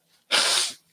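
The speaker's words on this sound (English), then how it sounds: "Hold on, I got to sneeze." A single sharp human sneeze bursts out close and loud, a short airy blast lasting about a quarter second after a faint intake of breath.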